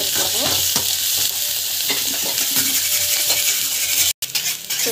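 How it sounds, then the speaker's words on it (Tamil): Turmeric powder, lentils and spices sauté in a hot pan, a steady close sizzle of frying broken by scraping stirs and a brief clink near the end. "ஸோ நல்லா வந்து வதக்கிக்கோங்க."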